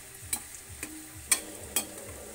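Bhature fry in hot oil, giving a soft steady sizzle, with four sharp clinks of a utensil stirring or flipping them at irregular intervals.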